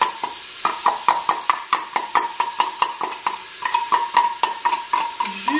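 Onion and garlic sautéing in a pan, heard as a quick, regular series of sharp scraping stir strokes, roughly two to three per second, close and fairly loud, with no talk.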